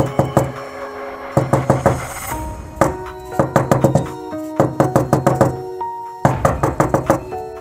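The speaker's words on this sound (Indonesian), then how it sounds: "ketukan itu semakin keras dan cepat, seolah memaksa untuk dibukakan" Loud, hard knocks on a door come in rapid clusters of several blows, with short pauses between each burst, as a horror-story sound effect.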